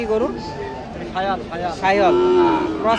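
Cattle and calves moo at a livestock market in Baneshwar, Rajshahi, several drawn-out lowing calls one after another, with background chatter and crowd noise throughout.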